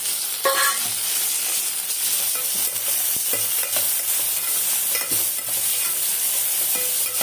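Prawns frying in a pan with tomatoes for biryani, a steady close sizzle with frequent scraping stir strokes throughout, no voices.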